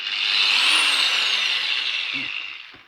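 Einhell TE-AG 125 CE angle grinder with speed control switched on, a steady high-pitched whine that rises slightly then holds and slowly fades, heard alone and close.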